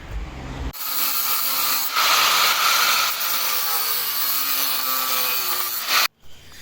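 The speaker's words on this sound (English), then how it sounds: "I have to cut all these hangers off because it is not gonna fit the stock V35 hanger" A power tool cuts through the metal hangers on an old Nismo exhaust fitted to a G35, giving a loud continuous grinding, rasping whir that stops abruptly near the end.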